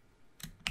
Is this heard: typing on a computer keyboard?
yes